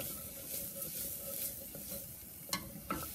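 Chopped onion sizzles in a little hot oil in a pan while making Alfredo sauce, a steady soft crackle with a couple of sharper pops near the end.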